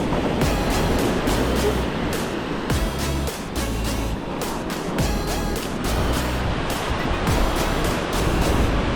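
Ocean waves at Kata Noi Beach in Phuket roar loudly and continuously, a dense rushing surf with repeated crashing swells close by.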